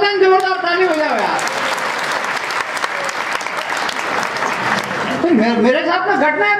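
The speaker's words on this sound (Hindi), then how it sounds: "एक बार पूरा सदन जोरदार ताली बजाओ" A hall audience at a Hindi comedy poetry show in Gogunda breaks into loud, dense applause lasting several seconds, with a voice talking just before it starts and again as it fades.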